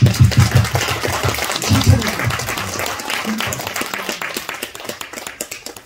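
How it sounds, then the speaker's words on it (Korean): Church congregation clapping during a Sunday service, a fairly loud round of applause that gradually loosens into separate, spaced claps as it winds down, with voices mixed in. "고맙다고 박수 한번 칠게요."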